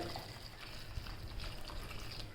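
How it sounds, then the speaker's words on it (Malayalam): A steady stream of water is poured into a cooking pot of vegetable pieces, splashing with a soft continuous gushing sound close by. "ഇനി ഇതിലേക്ക് കുറച്ച് വെള്ളം ഒഴിച്ചിട്ട്"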